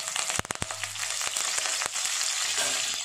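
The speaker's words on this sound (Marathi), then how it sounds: "तेलामध्ये कढीपत्ता घालायचा आहे" Curry leaves hit hot oil in a pan, giving a loud, close crackle with sharp pops at first that settles into a steady hiss, with no talk over it.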